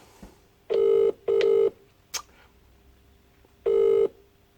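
Three steady electronic telephone ringback tones, each about half a second, with a short gap between the first two and a longer pause before the third, plus a brief click.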